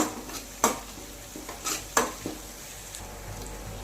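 Ground cumin and coriander paste sautés in a pan, a quiet low sizzle broken by a few sharp spoon-against-pan scrapes and clinks at irregular intervals.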